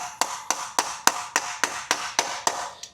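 Hammer blows on a 36-inch reptile cage being assembled, about ten sharp, close, evenly spaced strikes roughly a third of a second apart, with no voices.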